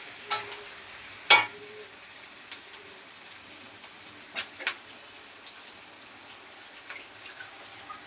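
Chilli chicken with ginger frying in a pan, a soft, steady sizzle kept low and close, broken by a few sharp clinks of a utensil against the pan.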